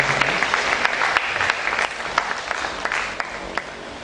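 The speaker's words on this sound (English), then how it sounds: "Let's give a hand of applause to the" Applause from an audience at an academic event for a space science and technology research programme, a steady wash of clapping with sharp individual claps popping out, moderately loud and continuous throughout.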